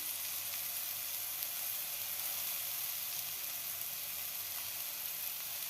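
Ridge gourd curry with turmeric, chilli powder and salt fries softly in a pan, giving an even, faint hiss of sizzling that holds steady throughout with no voices.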